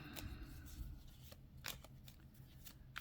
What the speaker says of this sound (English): when I block shuffle like this, it can take a minute to rearrange